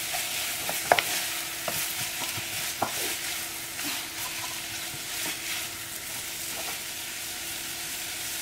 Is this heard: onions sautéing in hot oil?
yes